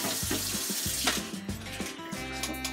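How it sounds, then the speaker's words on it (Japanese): Running tap water splashes steadily as a kitchen sink drain cover and strainer basket are rinsed, with uneven clatter and sloshing close by and no voices. "続いて排水口の蓋とゴミ受けを取り外し洗っていきます。"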